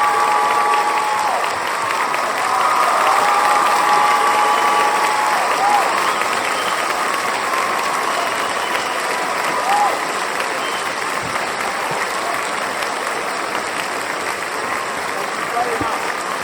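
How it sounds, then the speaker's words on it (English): After a talk by Graham Hancock, a large audience keeps up long, loud applause with some cheering mixed in. Faint tonal sound runs underneath throughout. "Another round of applause for Graham Hancock."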